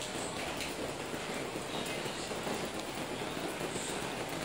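Rain falls steadily on a street in Jiufen, Taiwan, a soft, even hiss of drops with no voices.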